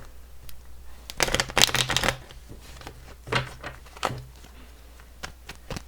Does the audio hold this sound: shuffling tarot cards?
yes